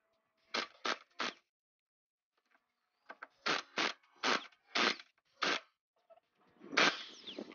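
An electric nut wrenching gun works on the variator nut of a Honda PCX scooter in sharp, close bursts. Three quick buzzes come first, a pause follows, then several more short whirring pulses end in a longer rattling burst.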